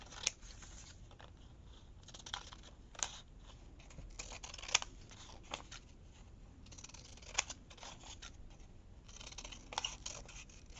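Scissors snip paper pieces for an envelope craft project, with repeated small crisp cuts and light paper rustling, close and fairly quiet, with no talking.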